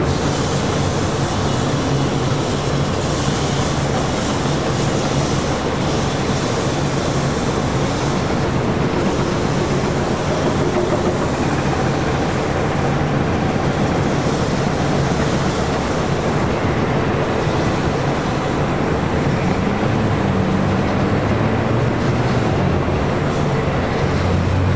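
A LATAM Boeing 767-300ER in LAN livery departs LAX, a broad, steady roar that fills the whole clip, loud and continuous, with wind buffeting the microphone and no talking.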